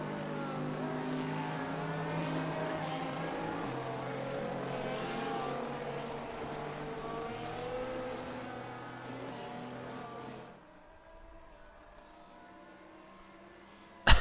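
Race cars at Monza in the racing game F1 Challenge scream past in a pack, engines droning with shifting pitch, then fade fairly quickly to near quiet, with a sharp knock at the very end.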